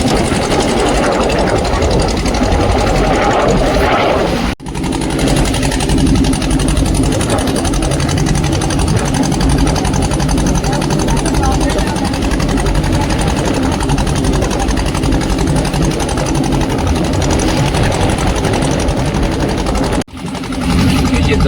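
Engine of a small ferry boat crossing a wide river in the Sundarbans, a steady close mechanical chug and rattle running throughout, with someone speaking over it.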